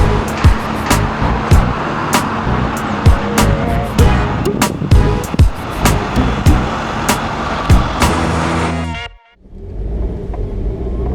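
A car drives down Main Street in Paterson, with a loud, steady engine and road roar from inside the cabin and a regular ticking like a turn signal. The sound cuts off abruptly near the end.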